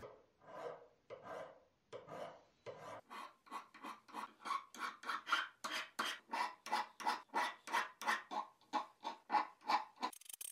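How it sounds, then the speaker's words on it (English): A metal file rasps along brass edges in steady back-and-forth strokes, slow at first then speeding into a quick, even rhythm, close and fairly loud. "I'm going to use a metal file to ease all the edges."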